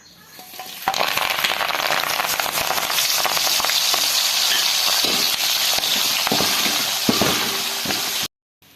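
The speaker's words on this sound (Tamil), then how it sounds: "இப்போ நம்ம கருவேப்பிலையை சேர்த்து ஃப்ரை பண்ணி எடுத்துக்கலாம்." Curry leaves fry in hot oil for homemade mixture snack, a loud, dense, crackling sizzle starting abruptly and continuing steadily before cutting off near the end.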